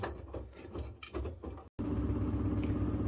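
An LG Steam direct drive washing machine runs its spin cycle with a steady low motor hum and drum whir, faint and even, after a brief burst of handling noise and a short gap.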